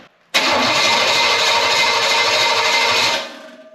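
Retired race engine cranking without starting, a loud, steady starter grind lasting about three seconds before cutting off, with no catch or firing, heard close and alone.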